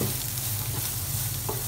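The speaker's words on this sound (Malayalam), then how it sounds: "നമുക്കിതൊന്ന് സോർട്ട് ചെയ്ത് കൊടുക്കാം." Onions sautéing in a pan for a Kerala-style stir fry give a steady, close sizzle and crackle, with the faint scrape of stirring. No voices.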